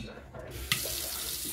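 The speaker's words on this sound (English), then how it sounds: "Fill that up with water." Tap water runs into a container in a home kitchen where yogurt is being made, a soft hiss that suddenly bursts to full flow partway through and then pours steadily.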